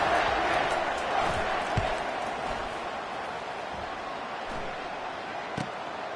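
A football stadium crowd at a Georgia vs Georgia Tech game roars and cheers during a punt return, a broad sustained wash of noise that slowly eases, with a few sharp thuds.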